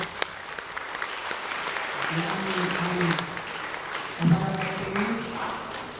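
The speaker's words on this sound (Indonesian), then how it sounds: "Tepuk tangan untuk penyanyi" Audience applause for a singer at a church drama event in Nawang Baru, a moderate crowd clapping at some distance with voices murmuring and a few tonal sounds underneath.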